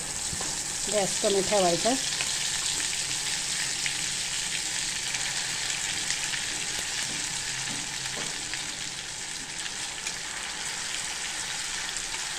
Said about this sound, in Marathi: आता आपण हा मसाला टाकतोय तेलामध्ये।